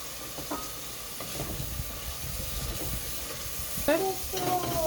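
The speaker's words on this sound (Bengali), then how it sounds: "মশলাটা কষানো হয়ে গেছে এখন চিংড়ি হয়ে যাবে" Prawns sizzling in a fried ground-spice paste in a pan, a loud steady frying hiss with scraping stirs throughout, and a few faint voiced sounds near the end.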